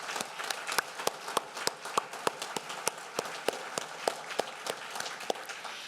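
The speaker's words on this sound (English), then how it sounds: "stand so we can give you a round of applause" Scattered, fairly faint applause from a small crowd at a city address for council members standing to be recognized, with a few distinct sharp claps standing out over the thin patter.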